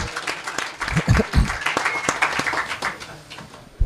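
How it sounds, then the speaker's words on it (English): A burst of applause from a workshop audience at the SHA2017 hacker camp, with scattered clapping, moderately loud, with some voices mixed in. "A round of applause."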